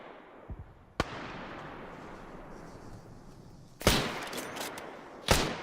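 Sharp, isolated rifle shots crack out in a competitive video game match, one loud report followed by two more well-spaced blasts over a steady low background rumble.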